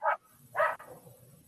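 Dog barking nearby during an annual training meeting: two loud, sharp barks about half a second apart, followed by low indistinct background murmur.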